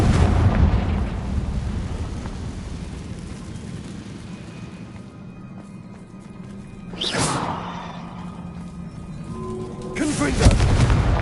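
Explosive blasts from the Confringo curse in Hogwarts Legacy, a rumbling boom at the start, then two sharper bursts later, with a voice calling out amid game sounds.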